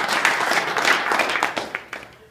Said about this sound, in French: Une bonne main d'applaudissement, Richard.